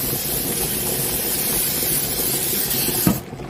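A steady, close hiss of aerosol cooking spray runs for about three seconds, then cuts off abruptly.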